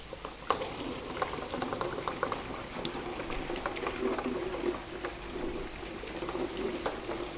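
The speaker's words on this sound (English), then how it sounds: "So now just the fresh water hose here, just to get the remainder of that carbon out the vessel." A fresh water hose rinses leftover carbon out of a koi pond purifier vessel, giving a steady bubbling, churning splash with small sloshes and knocks, close and moderately quiet, with no talk.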